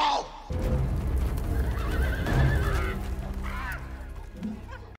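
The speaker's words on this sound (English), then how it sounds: "I love Maurice on the horse" A horse in a film scene lets out a loud, shrill whinny that rises and falls over several seconds, with hooves faintly clopping beneath and a brief bird-like honk near the end.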